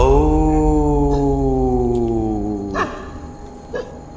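A dog at an old palace in India lets out a long, sliding howl that trails off, followed by a couple of short yips nearby.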